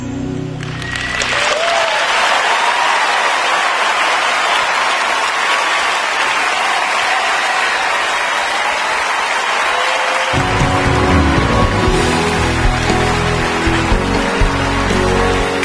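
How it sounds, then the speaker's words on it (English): Loud, sustained audience applause at the 2023 Oscars ceremony, a dense wash of clapping that swells after a brief musical lead-in and continues steadily under music at the end. "Give yourself some applause."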